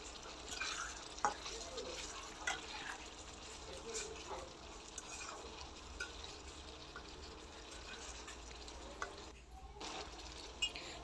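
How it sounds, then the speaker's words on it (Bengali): A spoon scrapes and stirs bhuna khichuri with chicken in a cooking pot, giving soft, faint, repeated stirring scrapes and small knocks over a low, continuous background hiss. "এখন আমি নেড়ে দিব ভালো করে, তলে যেন না লেগে যায়"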